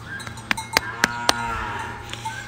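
A bull moos on a farm in a deep, drawn-out low call, close and clear, punctuated by several sharp clicks or knocks.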